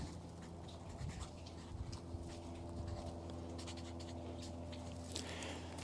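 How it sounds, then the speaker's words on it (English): A marker scratches out paint details on the plastic wrapper of a paint roller, a close, steady squeaky scribbling run in short strokes over a faint constant hum. "So in this case, we'll write Sherwin-Williams, low luster."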